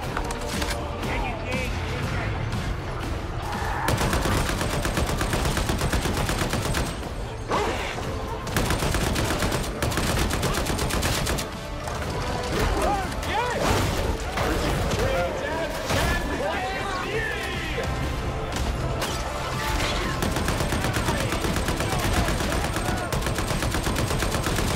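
Gunfire in the video game Warhammer 40K Darktide: dense, continuous bursts of rapid shots and impacts under voices and game sounds, loud throughout.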